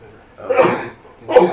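Two quick human sneezes in an indoor class setting, each a short, sharp burst about a second apart, close and fairly loud.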